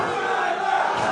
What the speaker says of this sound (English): And this crowd is fired up.